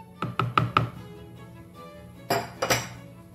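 Lemon juice and lemon zest being mixed in a bowl: four quick clinking taps of a utensil against the bowl, a pause, then a few more scraping clinks, close and clear.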